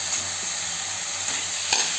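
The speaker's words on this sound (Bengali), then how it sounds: "এই যে ভেজে রাখা আলুগুলোকে আমি মশলার মধ্যে দিয়ে দেবো" Fried potatoes stirred into masala in a pan for a katla fish curry, with an even hissing sizzle and a couple of quick utensil knocks, close up, no one speaking.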